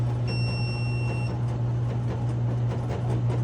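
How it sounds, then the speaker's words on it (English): An oil abrasion testing machine runs with a steady, loud low hum and a constant mechanical drone, with a brief high whine near the start. "Start the machine up."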